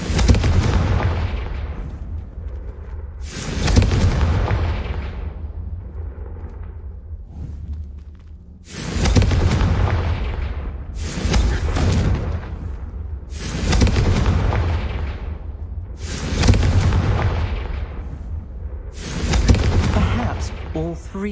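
Repeated Confringo fire-spell blasts in Hogwarts Legacy, aimed at braziers: about six loud booming bursts spaced a few seconds apart, each with a sharp crack and a rumbling tail, over a steady low game ambience.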